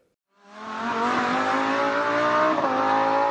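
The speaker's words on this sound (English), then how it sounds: "we have the fantastic sound of a V10 Lamborghini M2 drifting around the track" A BMW M2 with a V10 engine drifting on a track, its engine roaring loud and sustained with rising revs and a brief tire squeal mixed in, close by after a quiet start.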